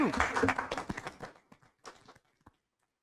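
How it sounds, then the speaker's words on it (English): Scattered applause at a county board of education meeting after an oath of office, a brief round of clapping that thins into a few separate claps before silence. "that's the last time people are going to clap for you"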